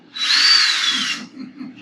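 A power drill whirs loudly and close for about a second, a bright sustained motor whine that bends slightly in pitch and then cuts off, leaving faint low rumbles.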